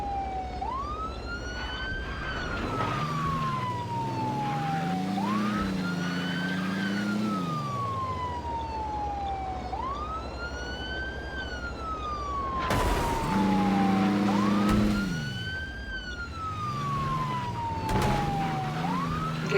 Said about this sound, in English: Okay, Harvey, pull over to the side, turn off your sirens